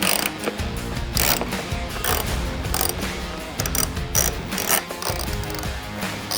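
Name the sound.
ratchet removing fairing bolts on a Harley Davidson Street Glide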